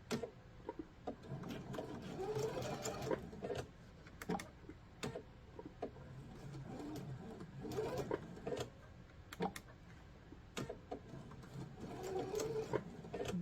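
Sewing machine stitching in a zipper, running in steady bursts of rapid mechanical needle clatter with brief pauses between runs, close and moderately loud with no talking.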